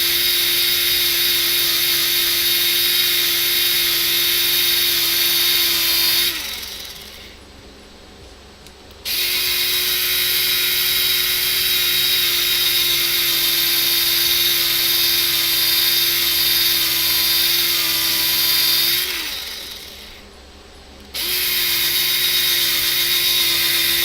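A power tool polishing metal knobs whines with a steady high-pitched drone, cutting out briefly twice and then resuming, loud and close with no talking.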